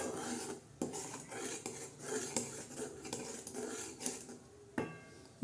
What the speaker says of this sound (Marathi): आता याला छान अशी उकळी येऊन द्यायची, छान असं शिजून द्यायचं, तोपर्यंत असं छान हलवायचं